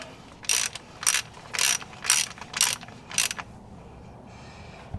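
A ratchet driving a 10mm Allen bit tightens the transfer case drain bolt on a Jeep, giving six quick close bursts of clicking in an even rhythm, then a faint pause.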